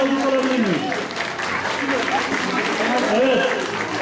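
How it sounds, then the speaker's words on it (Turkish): Audience at a community festival clapping in steady, moderately loud applause, with voices and crowd chatter mixed in throughout. "Bir buradan alkış alabilir miyim?"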